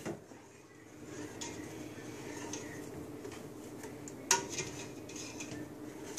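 Spoon stirring a homemade cake frosting of powdered sugar, butter and heavy cream in a bowl: steady, soft scraping close by, with one sharper clink of utensil against the bowl partway through.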